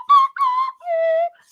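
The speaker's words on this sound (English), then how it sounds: "Jeremy, that slide whistle makes sounds like Chick's vision after Cosby makes her drink." A slide whistle is played in three short tooting notes, the pitch gliding slightly between them, close and clear against silence.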